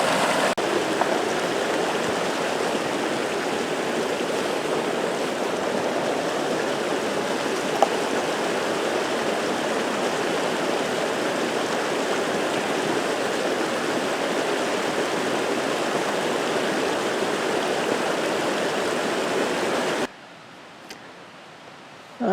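A forest stream rushes steadily through a canyon, a loud, constant wash of flowing water that cuts off abruptly near the end, with no talking.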